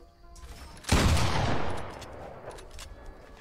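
A single loud pump shotgun blast booms in Fortnite, its roar fading over about a second.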